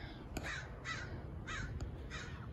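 Four loud, harsh raven caws ring out outdoors on a street, evenly spaced with no voices.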